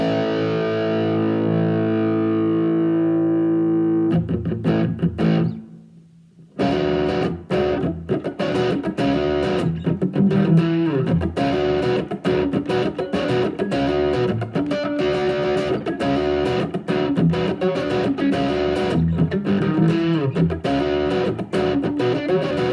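An electric guitar plays through distortion effects with a funky tone. A sustained chord fades out, and after a short gap the guitar returns with dense, choppy strumming, close and loud.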